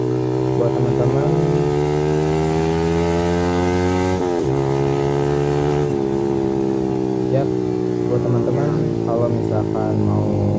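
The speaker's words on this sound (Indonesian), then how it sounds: "dengerin suara knalpotnya kayak gini, karena mantap pokoknya" A Yamaha R15 V3 155cc motorcycle fitted with an R9 racing exhaust idles and revs loudly and close up, its droning engine note holding steady, dipping briefly in a quick throttle blip, then settling back into a rough, rumbling idle.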